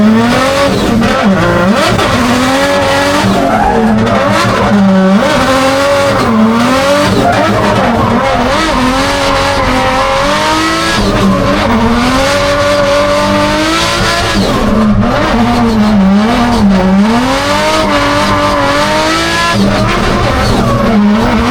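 Race cars scream past at full throttle, engines rising and falling in pitch with tire squeal and skidding mixed in, loud and continuous throughout with no talk.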